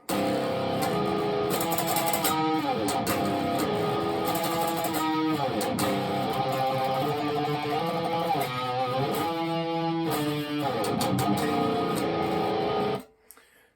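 An electric guitar plays the chorus of a song, chords and riffs, loud and steady, ending abruptly.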